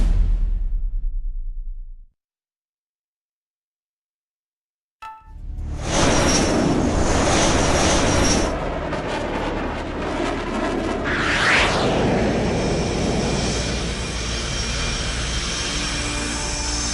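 Jet engines on H.A.W.X. 2 aircraft before takeoff in the video game: a brief rumble cuts to silence, then a loud, steady roaring whine swells in with a rising whoosh midway and keeps droning to the end.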